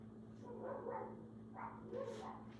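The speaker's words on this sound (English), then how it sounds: "Yes, I've got 2 dogs." Two dogs bark outdoors in a yard, a few scattered barks and yips at moderate distance over a steady background hum.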